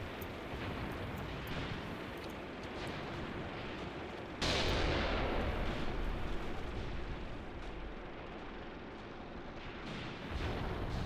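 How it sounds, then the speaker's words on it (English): Artillery fire in the war game Graviteam Tactics, a low rumbling barrage of distant booms rolling continuously, with a sharper, louder blast landing midway before the rumble settles back. "You are potentially at risk of artillery fire."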